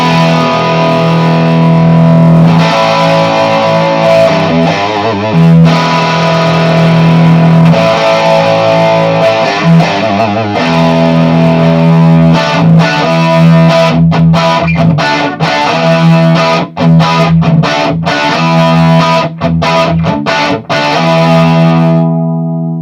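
Heavily distorted electric guitar through a Marshall JMP 50 watt amp rings out loud and close in sustained chords with a few brief breaks, then shifts to choppy stabs near the end, with no voices.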